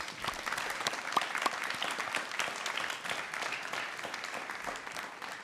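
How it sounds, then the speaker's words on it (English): A school promotion audience of children gives their parents a steady round of applause, many hands clapping in a dense, even wash with a few sharper individual claps standing out. "give your parents a big round of applause."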